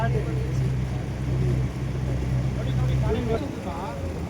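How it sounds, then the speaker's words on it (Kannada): A tour boat turns around on the reservoir at Thekkady in Kerala, its steady engine drone running close throughout, with people talking over it. "ಬೋಟ್ ಟರ್ನಿಂಗ್ ಯೂ ಟರ್ನ್ ತಗೊತಾ ಇದೆ ಬೋಟ್ ಒಂದು"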